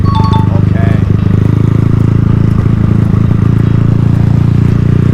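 A motorcycle fitted with newly installed tyres, ridden at steady speed: a loud, continuous, close engine drone with road and wind rush, and a rider talking over it.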